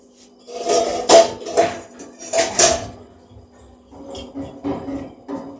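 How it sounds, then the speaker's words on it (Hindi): Rice is washed in a metal pot, with repeated clinking, scraping and sloshing bursts close by, in two clusters separated by a brief pause. "चावल धो लेती हूँ इतने।"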